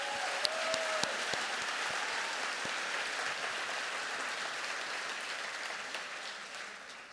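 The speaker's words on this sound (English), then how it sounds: "Let's give them one more round of applause." Audience applause at a school district preservice event for elementary staff, a steady wash of many hands clapping that lasts several seconds, moderately distant, with scattered sharper claps standing out and a gradual fade at the end.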